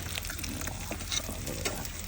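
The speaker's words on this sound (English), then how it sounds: "Got the bacon and eggs on." Bacon and eggs frying in a pan at a camp, a steady close crackling sizzle with small pops running throughout, no voices over it.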